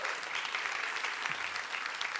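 Audience applause at a science contest ceremony, a steady wash of many hands clapping, moderately distant and even throughout.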